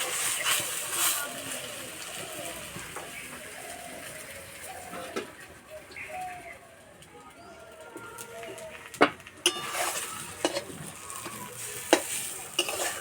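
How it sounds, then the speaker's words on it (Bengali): Cabbage frying slowly in a pan, a steady soft sizzle running throughout with occasional sharper clinks and scrapes of stirring, and a bird cooing faintly in the background. "একটু সময় ধরে আস্তে আস্তে ভেজে নিতে হবে,"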